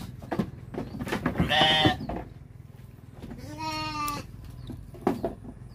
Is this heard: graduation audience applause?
no